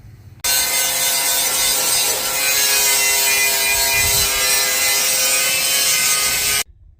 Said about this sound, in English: So let's try to wire wheel on this thing